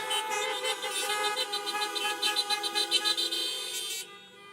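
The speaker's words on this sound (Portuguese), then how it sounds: "dá uma buzinada onde você está" Car horns honk from vehicles parked at a drive-in church service. Several overlapping, sustained blasts in different pitches, with some rhythmic pulsing, cut off abruptly near the end.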